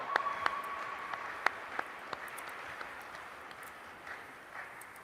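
Applause for a performer at a Black History Month celebration, moderate crowd clapping with a few sharp nearby claps standing out, tapering gradually over several seconds.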